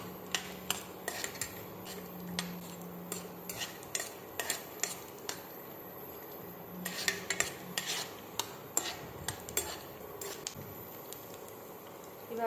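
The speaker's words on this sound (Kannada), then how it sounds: "ಇವಾಗ ಕಡಲೆ ಬೀಜ ಚೆನ್ನಾಗಿ ಫ್ರೈ ಆಗ್ತಾ ಇದೆ" Peanuts frying in oil in a pan, heard mostly as a string of sharp clinks and scrapes as the nuts are stirred and tossed, with only a faint sizzle underneath.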